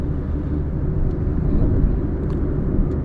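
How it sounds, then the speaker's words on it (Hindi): Cabin rumble of a Maruti Swift automatic accelerating hard, a steady low engine and road drone building without pause, heard close from inside the car. "देखो ये ड्रैग देखो यार भाई कितनी सेकंडों के हिसाब से स्पीड पकड़ रही है एकदम"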